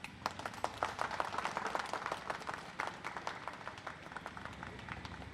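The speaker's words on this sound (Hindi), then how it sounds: "यहाँ जो लोग मौजूद हैं अपने लिए एक बार ज़ोरदार ताली बजा दें" A live audience at a televised public forum with high-rise residents in Noida claps hard together, a dense, steady patter of many hands that fills the whole stretch without a break.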